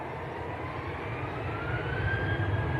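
A Ryanair jet airliner rolls down the runway for takeoff, its steady broadband engine roar holding at a distance and swelling slightly toward the end, with a faint rising whine above it.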